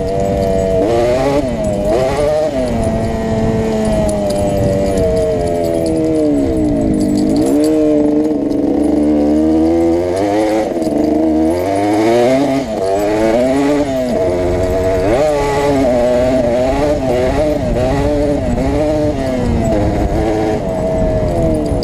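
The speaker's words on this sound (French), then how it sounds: "Donc ça pétarade un peu la redescente. Mais quand elle monte dans les tours, elle arrache vraiment, on sent la puissance." Suzuki TSR 125cc two-stroke motorcycle on a wet road, its engine revving high then dropping back with crackling pops on deceleration, loud and close with changing pitch throughout, no voice.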